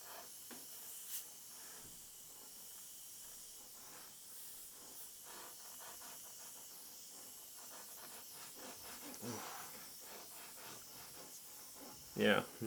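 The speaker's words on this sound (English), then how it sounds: "Got an airbrush." An airbrush spraying varnish over alcohol ink tests gives a faint, steady hiss that runs for several seconds in a quiet room, with a sharp bump near the end.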